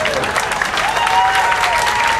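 Banquet audience applauding, a steady dense wash of clapping throughout with a faint voice beneath it.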